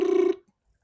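Brubru bird in the South African bush gives a single short, clear trilling call like an old telephone ring, loud and near, then silence.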